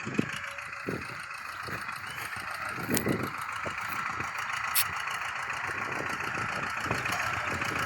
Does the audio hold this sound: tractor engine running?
yes